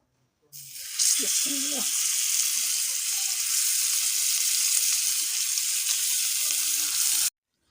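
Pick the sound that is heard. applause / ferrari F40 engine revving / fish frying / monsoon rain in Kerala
fish frying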